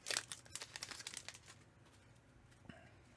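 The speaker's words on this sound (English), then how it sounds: "If I can get this pack open and not destroy everything." A Panini Score football trading card pack is torn and crinkled open in a quick burst of crackling foil wrapper, loud at first and then trailing off into quiet handling with a single soft snap near the end.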